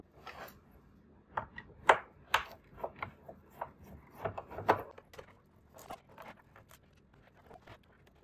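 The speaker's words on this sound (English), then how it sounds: "we need to reverse it and to unscrew all the small screws that are holding the metal plate on the back" Small screws are worked out of a metal back plate on an Arturia KeyStep, a quiet, close series of irregular scraping, rasping ticks and short rubs with brief pauses between them.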